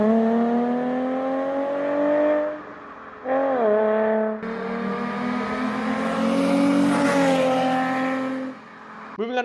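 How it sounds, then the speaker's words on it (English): A car's Busso engine exhaust note, a loud, sustained tuneful drone that swells and rises in pitch through quick revs, with a sharp blip near the end. "I'll include a clip of the Busso exhaust because it sounds so good"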